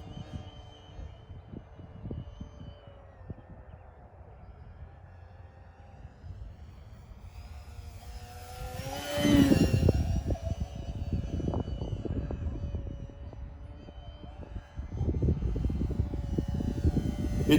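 An E-flite SE5A 900mm RC model biplane cruises at a little under half throttle, its electric motor giving a steady, moderate hum that swells as it passes closer, outdoors with no talk.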